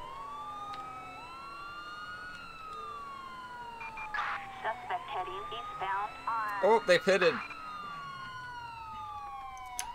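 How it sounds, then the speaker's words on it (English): A police car siren wails and yelps continuously in the video game GTA V with the LSPDFR mod, rising and falling near the listener while someone speaks briefly over it. "I left my siren on."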